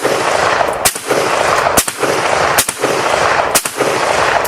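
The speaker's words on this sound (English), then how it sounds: "So let's send a couple of rounds downrange with this thing." Powerful bolt-action rifle fired downrange, four loud sharp shots spaced roughly a second apart, each a sudden broadband crack with a brief ringing tail, heard alone with no talk.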